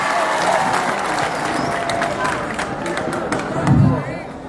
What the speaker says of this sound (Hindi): इन सभी लोगों के लिए जोरदार तालियां बजाइए।